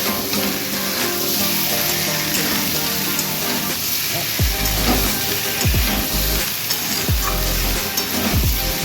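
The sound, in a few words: potatoes frying and sizzling in a pan for aloo dum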